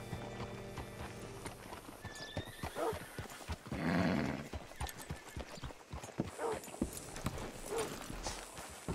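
Steady clip-clop of horse hooves walking in the video game Red Dead Redemption 2, with a horse neighing partway through and a few creaks and soft movement sounds around it.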